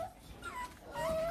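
One-month-old Rottweiler puppies whimper and yip softly, with thin high whines rising near the start and again toward the end against a quiet, faint background.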